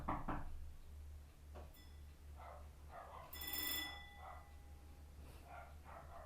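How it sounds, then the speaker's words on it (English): A faint doorbell chime rings a few times in a quiet room, its bright tones lingering briefly over low background hum. "Excusing the doorbell if you can hear that"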